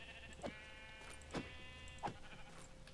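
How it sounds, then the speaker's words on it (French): Sheep in the video game Minecraft bleat faintly in three short calls spaced across a steady, quiet tonal background, with no talking. "Des moutons."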